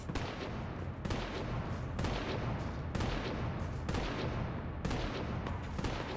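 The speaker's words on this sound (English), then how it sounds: "stuff is exploding over there" Repeated explosions in the Mass Effect 3 video game, heavy booms at roughly one-second intervals over a dense continuous rumble, loud and close with no talking.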